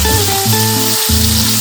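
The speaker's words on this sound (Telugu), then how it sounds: "ఇంకో 10 నిమిషాలు ఆయిల్లో వేయించాలి రొయ్యల్ని." Large prawns fry in oil with a loud, steady sizzle, partly covered by prominent sustained tonal music.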